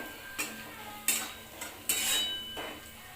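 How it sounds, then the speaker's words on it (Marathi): Spoon scrapes and clinks against a pan while chili powder is stirred and fried, a few separate metallic knocks over a low background hiss, with no talking. "मी इथे दोन चमचे तिखट टाकलेलं आहे ते चांगलं परतून घ्यायचं"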